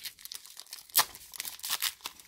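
Foil baseball card pack wrappers, 2019 packs including Diamond Kings, crinkle and tear open nearby in short bursts, with one sharp rip standing out amid the rustling.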